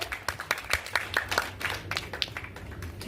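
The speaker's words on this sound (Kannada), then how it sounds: "ಒಂದು ಜೋರಾದ ಚಪ್ಪಾಳೆ ಮೂಲಕ. ಬಲಿ ಜೋರಾದ ಚಪ್ಪಾಳೆ." An audience at a stage event claps to welcome a guest onto the stage, a scattered round of applause with many separate claps in an uneven rhythm, moderately close.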